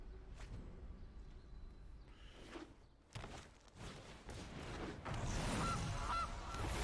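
Goose honks from a goose card in Magic: The Gathering Arena, a few sharp calls rising over busy game effects and low background noise.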